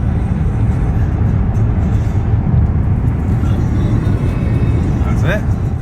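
Highway traffic in Kansas, semi trucks mixed with regular cars, gives a continuous loud road roar and tire rumble heard from inside a moving vehicle, steady for several seconds with a faint whistle near the end.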